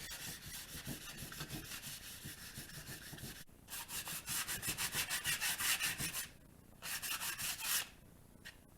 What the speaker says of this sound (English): I hate the sound of sanding.